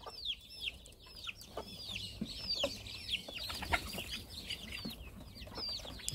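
Chickens cluck in a steady stream of short calls, several birds close by and overlapping, while rabbits and native chickens share the yard.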